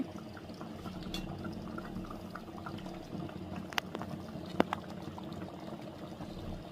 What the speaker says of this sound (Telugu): half glass water వేసుకున్నామండి